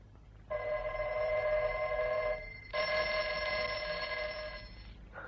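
A telephone bell rings in two bursts, the first lasting about two seconds and the second about two seconds after a short pause. The ringing is clear and steady, with no talk over it.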